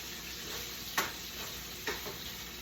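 Sweet potatoes and green beans sauteing in grapeseed oil, a steady close sizzle with two brief scraping stirs of a utensil against the pan, no talk.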